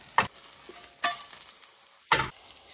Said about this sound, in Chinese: 稍微煎一下，两面煎酥就行了